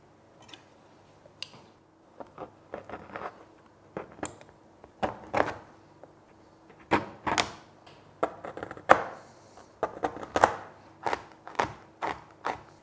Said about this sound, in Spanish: vamos a cortar nuestro chocolate en trocitos pequeñitos